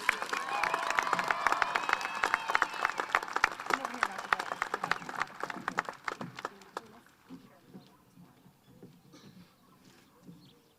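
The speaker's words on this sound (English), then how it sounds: "Can we please give her applause?" A commencement audience breaks into applause for an outstanding graduate, loud and dense at first with some cheering, then thinning into scattered individual claps that fade away.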